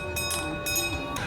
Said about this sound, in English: For a couple dollars, you can ride the North Pole Express, which is the zoo's train ride